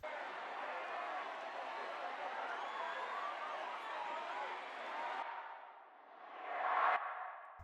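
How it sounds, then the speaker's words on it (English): Crowd cheering sample in a dance pop song interlude after the first drop, a wide wash of cheers and chatter that dips, swells again and then cuts off sharply. "I do have this situation, like a crowd cheering."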